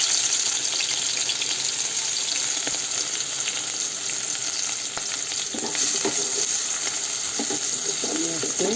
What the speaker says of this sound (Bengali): লাউ তেল দিয়ে দিয়েছি, ফোড়নে একটু জিরে দিয়ে দিব